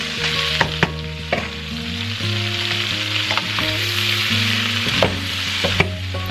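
Cabbage frying in bacon drippings, a steady close sizzle with occasional sharp pops and stirring scrapes throughout, no talking.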